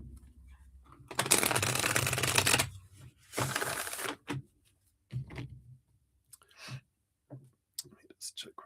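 Tarot cards being shuffled in bursts, with two long riffling runs near the start followed by shorter, quieter shuffles and taps, close to the microphone with a soft voice nearby.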